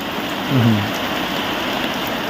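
Continuous rain patters and hisses steadily, with a brief low murmur early on.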